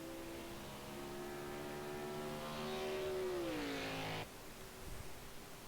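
Race car engine in Project Cars 2 drones steadily and loud, its pitch climbing then sweeping down before cutting off abruptly, followed by quieter engine noise.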